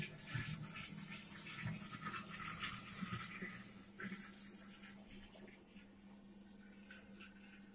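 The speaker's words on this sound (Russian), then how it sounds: "Сейчас будем эту водичку с сахаром заливать обратно в емкость." Sugar water is poured back into a fermentation container that still holds malt for a mash: a steady, close, splashy liquid rush with scattered bright splashes and a low hum underneath, and no talking.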